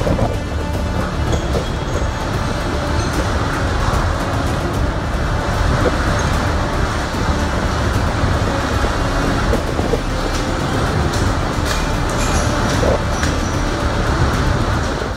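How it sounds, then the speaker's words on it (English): Super typhoon winds roar through a building interior in a dense, continuous wall of loud turbulent noise, with rattling and crackling debris throughout and no speech. "Storm is coming into the building now, and lots of debris,"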